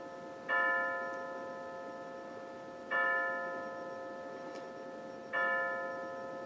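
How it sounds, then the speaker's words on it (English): A clock chimes three evenly spaced bell-like strikes, each a clear ringing tone that slowly fades, heard faintly indoors over the low hum of a Casablanca Century ceiling fan, with no talk. "the clock is chiming 5 o'clock right now"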